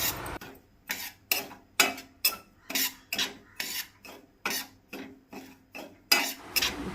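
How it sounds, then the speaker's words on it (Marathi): Dry semolina (rava) is stirred in a pan over low heat for Goan upma, giving repeated scraping, rasping strokes about once a second, close and fairly clear with no talk. "गॅसार कायल दवरून रवो तो 5 मिनटां मंद आंचेचेर भाजून घेवपाक जाय।"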